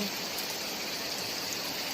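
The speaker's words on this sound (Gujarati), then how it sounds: "વરસાદ વરસી રહ્યો છે" Steady rain pours down in a dense, unbroken hiss that stays even and fairly loud throughout, with no voices.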